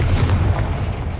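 A Confringo blasting spell explodes in Hogwarts Legacy, a heavy, booming low-frequency blast with a rumbling tail that rolls on for about a second, loud and close.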